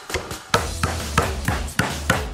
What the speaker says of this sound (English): It's got a very tough shell, so we're gonna use the hammer.